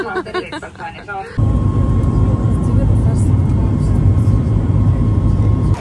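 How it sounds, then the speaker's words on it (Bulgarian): A loud steady roar of a large airplane at an airport, rising abruptly after a few seconds of talk and holding as a broad continuous rumble with a faint whine. "Отиваме вече към самолета."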